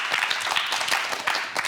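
Brief burst of clapping from a small studio audience on a family sex-education talk show, dense and lively for under two seconds.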